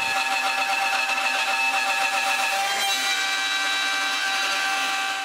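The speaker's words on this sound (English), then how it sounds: "Put this on the CNC and start the cut." A CNC router bit cuts through oak, producing a steady, close mechanical whine with layered tonal hum and a slight shift in pitch partway through.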